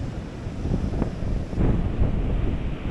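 Steady roar of surf with large, whitecapped ocean waves breaking in broad swells at a fishing spot, buffeted by heavy wind noise across the microphone.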